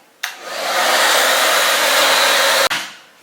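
A hair dryer blows on hair in one loud, close, continuous whoosh for a few seconds, switched on and then off, with no talking.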